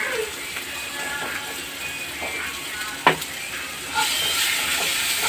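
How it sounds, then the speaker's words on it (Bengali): Whole cumin, green chilies and tomato frying together in a pan: a moderate, steady sizzle with a sharp clatter partway through, and the hiss grows louder toward the end, no speech. "আর একটু গোটা জিরে আর কাঁচা লঙ্কা আর টমেটো দিয়ে এগুলো একটু ভাজা ভাজা করে নেব"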